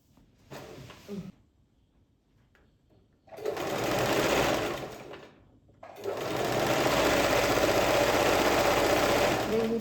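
A sewing machine stitches the hook piece of a skirt during top stitching, running in two long loud bursts of steady whirring after a brief short run, with quiet pauses between them.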